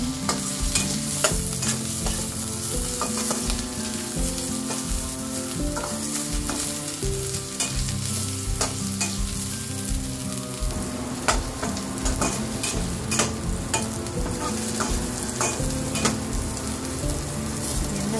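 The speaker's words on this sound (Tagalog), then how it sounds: "Lutuin lang natin ng bahagya ang luya. Tapos, ilagay na natin ang bawang." Ginger and garlic frying in a pan, a dense continuous sizzle with repeated stirring scrapes and light metallic clicks, close and loud, no voices.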